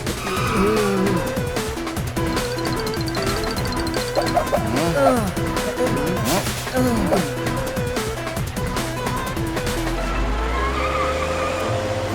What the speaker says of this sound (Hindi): जोरदार, जल्दी गाड़ी रोक।